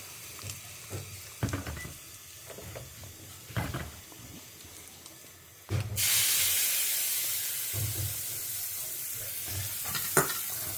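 Mustard seeds and urad dal hit hot oil for tempering, with asafoetida added, for a home-cooked vatha kuzhambu. A few stirring clinks come first, then a sudden loud, steady sizzle takes over and hisses on to the end.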